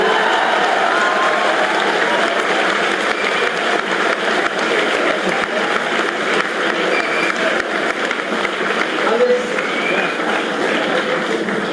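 An auditorium audience at a university festival inauguration applauds, a long, dense, sustained roll of clapping with some cheering mixed in, loud and even throughout.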